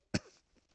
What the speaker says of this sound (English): he's going to be coughing for a second